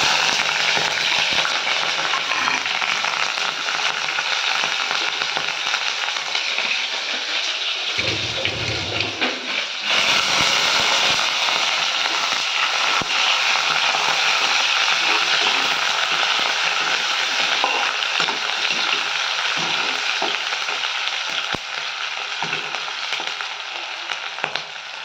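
Onion and green chili fry in hot oil in a wok, a loud, dense, continuous sizzle filling the whole stretch, with a brief lower stir or clatter partway through.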